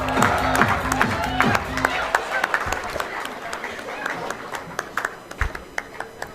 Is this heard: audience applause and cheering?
yes